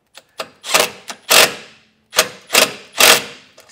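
A wrench and socket tighten a nut on a base plate bracket for a 2023 vehicle, sounding as a series of about eight sharp metallic ratcheting clicks in short bursts, close and loud, with brief pauses between them.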